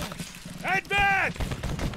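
Musket volley fire in the game Battlecry of Freedom: crackling, overlapping gunshots rumble underneath while someone shouts loudly in the middle of the clip.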